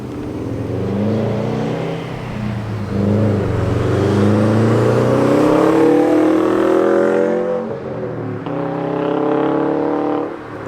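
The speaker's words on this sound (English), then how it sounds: "The exhaust sounds really good." A 2020 Subaru WRX STI with a Remark catback exhaust grows louder as it approaches and passes, exhaust droning and revving through gear changes before fading slightly, loud and close.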